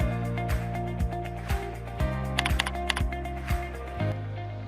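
Steady typing on a computer keyboard, close and fairly quiet, with evenly spaced heavier key presses and a short flurry of quicker clicks in the middle, no voices.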